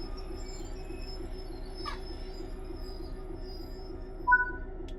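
A train in Train Sim World 5 stopping on a siding, a quiet low rumble with a few brief metallic wheel squeals near the end.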